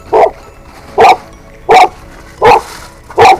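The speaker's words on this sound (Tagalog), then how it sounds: "Kaso may aso. Tumatahol pa po dyan." A dog barks five times at an even pace, each bark loud and sharp with quiet gaps between, heard while a delivery driver stands at a house gate.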